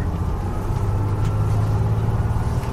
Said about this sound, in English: You hear the gentle hum of the vehicle's powerful motor.